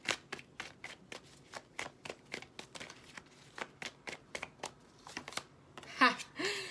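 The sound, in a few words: shuffling tarot cards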